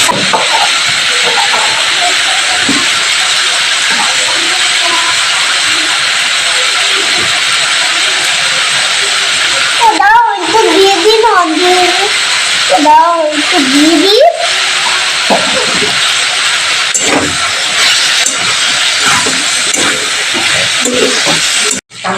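Water hitting a hot pan of frying green tomatoes sends up a loud, sustained steaming hiss that runs throughout, with brief clatter midway as the pan is stirred.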